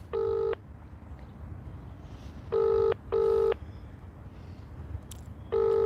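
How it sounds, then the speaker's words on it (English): A phone on loudspeaker rings out on the line, with short repeated two-tone ring-back bursts spaced by pauses over a low background hum. "Phone's on loudspeaker, guys, so you can hear what's being said. There you go, it's ringing."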